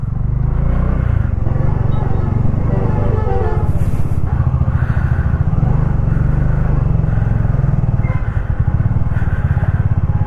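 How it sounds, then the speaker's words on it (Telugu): A traffic jam of cars, motorcycles and lorries in a large city on the road to Srinagar, heard from a motorbike: a loud, constant engine rumble close by, with a faint horn and clatter in the mix. "ట్రాఫిక్ జామ్ అయిపోయినది మొత్తం."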